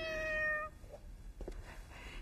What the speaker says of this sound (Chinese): 也不知道谁家的猫叫了一晚上了